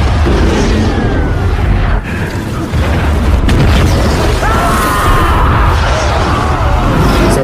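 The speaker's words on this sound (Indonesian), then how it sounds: "terjadilah ledakan yang super dahsyat" A huge explosion rolls out in a loud, sustained boom with crackling debris and rumble across several seconds, dense and close, with no voices over it.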